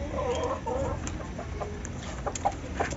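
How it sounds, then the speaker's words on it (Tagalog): Chickens in front of a house clucking and murmuring close by, with several short calls scattered through a low background. "Iyan ang ating mga manok na nandito sa aking harapang bahay."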